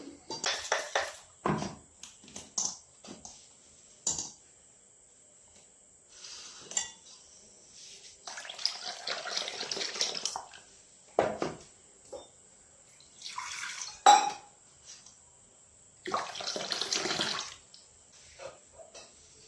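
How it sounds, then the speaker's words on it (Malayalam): Intermittent bursts of pouring and splashing water with clinks of a utensil against a bowl as ground ragi paste is strained with water through a sieve, separated by quiet pauses, close up. "വെള്ളം ചേർത്ത് നമ്മൾ അരിച്ചെടുത്താൽ മതി"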